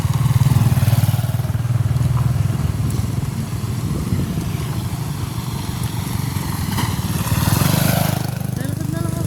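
A motorcycle engine runs steadily nearby on an outdoor route, its low putter continuing under people chatting, with brief clatter and bumps along the way.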